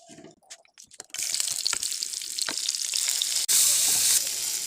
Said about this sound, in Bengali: এখন একই তেলের মধ্যে গলদা চিংড়ি মাছগুলোকে ভেজে নেব।